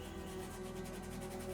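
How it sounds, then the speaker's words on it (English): Steady, faint rubbing of sandpaper on a miniature sci-fi building model for Star Wars Legion, a continuous close scratch with no pauses or voices. "repeating the process of sanding back the area for this door as well."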